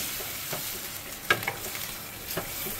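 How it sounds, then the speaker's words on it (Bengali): Hot water goes into cauliflower frying in a pan. A soft, steady hiss and sizzle carries a few sharp clicks and splashes from the pan. "দিয়ে দিলাম গরম জল"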